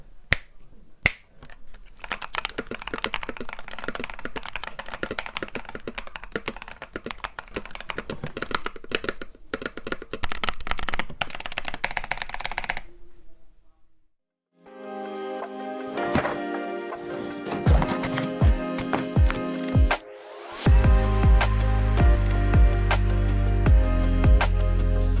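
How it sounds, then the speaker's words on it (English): Typing on a band-aid modded mechanical keyboard, a long run of quick, dense clacking keystrokes, followed after a short pause by bursts of louder, deeper thocky key presses layered with music. "I have band-aid modded this keyboard, so have a quick listen"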